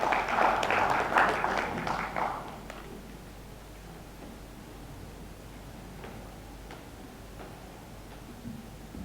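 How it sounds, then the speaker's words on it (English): An audience at the 2021 Kenya E-Commerce Awards ceremony claps for about two seconds; the dense applause then fades into a quiet room with scattered faint noises. "A round of applause for him."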